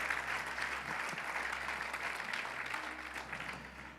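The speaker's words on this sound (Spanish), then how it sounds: "Denle un aplauso al Señor, aleluya." A church congregation applauding during a Wednesday prayer service, steady dense clapping sustained for several seconds at moderate level, with no voices standing out.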